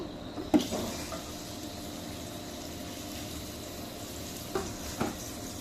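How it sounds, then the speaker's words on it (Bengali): Onions and green chilies frying in oil in a pan for a dried-fish curry, a soft continuous sizzle with a couple of sharp spoon clinks and occasional stirring scrapes, moderately quiet and close. "এখন খালি রান্না করব পেঁয়াজ কাঁচামরিচ দিয়ে দিলাম"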